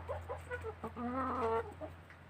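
Brown Lohmann hens cluck and chatter close by in a short burst of overlapping calls, with a low steady hum underneath.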